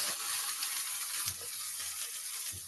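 Red pepper and shallots frying together in a pan give off a steady, close sizzle that holds level for the whole stretch, with no voices over it.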